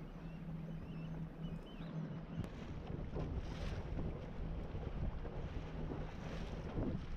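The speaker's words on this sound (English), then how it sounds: "This time we're going against the wind and it's a little choppier out here." A steady rush of wind buffets the microphone aboard an electric boat crossing a choppy river against the wind, with a low continuous roar and splashing water throughout.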